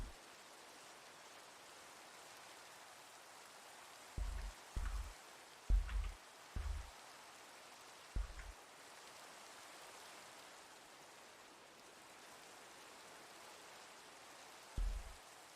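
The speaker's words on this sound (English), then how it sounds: "Almost time to sleep and get rid of the rain." Rain falling in a Minecraft-style video game, a faint steady hiss throughout, broken by a few soft thuds and clicks and no speech.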